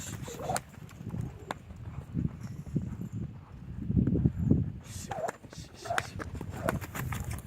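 Soft, rhythmic hoofbeats of a horse loping on a lead pass close by, while a person talks intermittently over the thuds.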